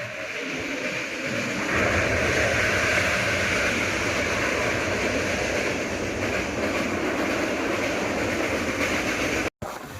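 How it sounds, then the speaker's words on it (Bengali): A train crosses the Kolaghat bridge with a loud, steady rumble and a low rhythmic clatter of wheels on rails that holds for about ten seconds, with no voices. "ব্রিজ দিয়ে ট্রেন যাচ্ছে"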